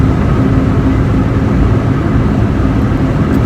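A Nissan 240SX with six new coil packs, checked for a misfire, idles steadily and close by with a constant low engine drone and no talking.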